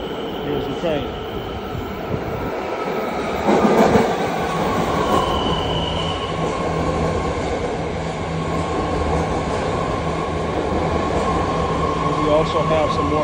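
A train arriving at a station, heard up close with steady rumbling, rolling wheels, clanks and squeals over several seconds, while people talk nearby.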